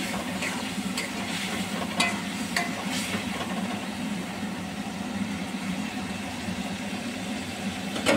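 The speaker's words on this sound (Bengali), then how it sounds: "কিছুক্ষণ পর মাছগুলোকে আমি এর মধ্যে দিয়ে দিচ্ছি।" Chingri (prawns) and papda fish sizzling in a frying pan, a steady close hiss and crackle throughout with a few sharper pops and spits, no one talking.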